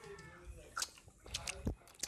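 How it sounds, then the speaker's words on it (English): People chewing cake pops and fruit at a birthday gathering, a few soft crunchy bites and wet mouth sounds close to the microphone, faint and irregular with light background noise. "Nobody wants to hear y'all chewing."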